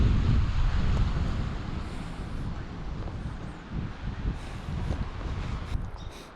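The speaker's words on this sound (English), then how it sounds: "It's windy, but they're all windy" Strong wind buffeting the microphone in a constant low rumble at a backcountry campsite in the Emigrant Wilderness, gusting harder at first and easing slightly, with no talking.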